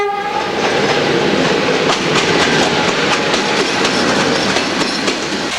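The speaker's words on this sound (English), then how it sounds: "Sinaia train station." A train at Sinaia train station in Romania rolls by with loud continuous rumble and rhythmic clickety-clack of wagons, a horn tone sounding near the start, close and alone without voices.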